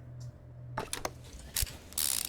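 Inner nuts being fitted onto a tractor in Car Mechanic Simulator produce a short burst of ratcheting, gear-like mechanical clicks, a few quick taps followed by a brighter metallic rattle, heard alone and close.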